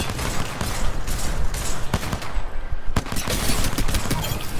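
Gunfire from a P20 pistol in a first-person shooter game, heard as a continuous dense rattle of shots and impacts with a few louder sharp cracks standing out, loud and busy throughout.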